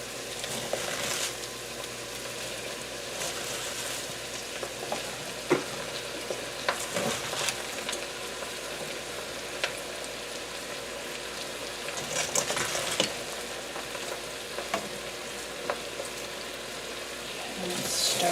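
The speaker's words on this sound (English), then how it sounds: "We're going to slowly start adding our cabbage." Cabbage is added and stirred into kielbasa sizzling in a pan, with a steady frying hiss under intermittent scraping and clinking of the utensil against the pan; no voice is heard.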